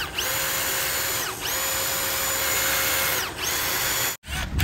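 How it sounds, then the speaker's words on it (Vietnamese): A cordless impact driver, model 2953-20, drives a 5 cm wood screw in its first power setting, a steady loud high whine with two brief dips as it ramps up again, then cuts out near the end. "cái độ số 1 bắn ống vít gỗ là cỡ 5 cm"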